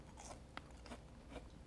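A crisp bite into a fried tilefish, giving a few quiet crunches close to the mic with no talk.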